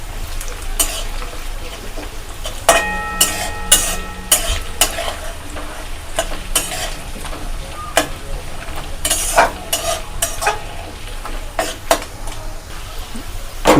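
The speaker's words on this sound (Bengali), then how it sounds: "কাজু কিশমিশটাকে দিয়েও ভালো করে ভেজে নিই।" Cashews and raisins fry in a pan for a Bengali basanti pulao, with a steady sizzle broken by frequent sharp scrapes and clacks of a spatula stirring against the metal, close and fairly loud.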